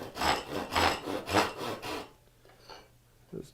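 A hand saw cuts a dado into a wooden board with four quick, rasping back-and-forth strokes up close, then falls to faint scraping.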